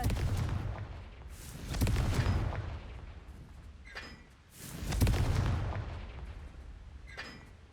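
Fiery Confringo spell blasts from Hogwarts Legacy, two heavy booming explosions a few seconds apart, each trailing off into a rumbling decay, with fainter crackling bursts between them.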